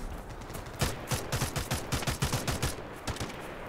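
Gunfire in the video game Delta Force Hawk Ops, a rapid burst of a dozen or so sharp automatic shots cracking close together, pausing briefly, then a couple more shots near the end, fairly loud and with no talk.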